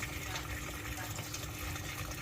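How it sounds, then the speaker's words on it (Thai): Water poured into the drum of a Toshiba washing machine being checked for an overflow fault, a steady broadband rushing and splashing that runs loud and unbroken throughout, with a voice talking over it. "ให้ทำการใส่น้ำลงไปครับ"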